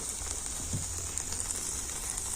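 Eggplant pieces fry gently in a pan over a very low gas flame, giving a soft, steady crackling sizzle that stays quiet and even throughout, with no talking.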